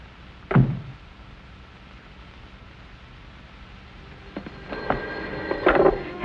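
A vintage telephone bell rings in a quiet 1940s interior, a short burst early on followed by a louder cluster of rings toward the end, with no talking.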